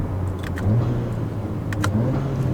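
Turbocharged Audi A4 fitted with an aftermarket intake, downshifting: a steady low engine drone with a few brief, sharp chirps and clicks on top, heard alone without talking.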